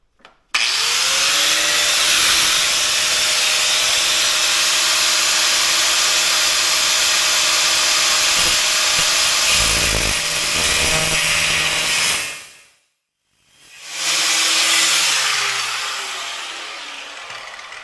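A power tool grinds loud and steady through the metal top link of a Kubota BX23S tractor's three-point hitch, a droning whine with shifting pitch that stops briefly near the end, then starts again.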